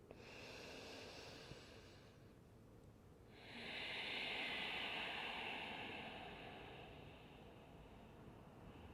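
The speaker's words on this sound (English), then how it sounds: "Creating that breath that you can hear and feel in the back of the throat." Audible ujjayi yoga breathing drawn in and out through the nostrils gives a soft, hissing, ocean-like rush in the throat, with one slow breath fading out and a longer, stronger one following, close and quiet with no talk.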